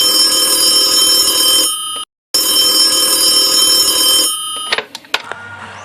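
A telephone rings in a radio play, two long loud electric bell rings split by a short silence, followed by the clatter of the receiver being picked up.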